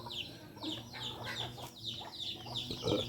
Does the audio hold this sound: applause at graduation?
no